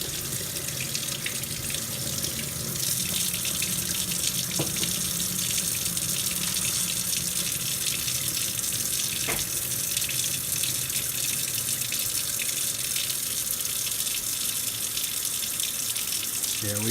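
Tap water runs steadily over broccoli sprouts being rinsed, a loud, continuous close splashing stream with faint handling knocks.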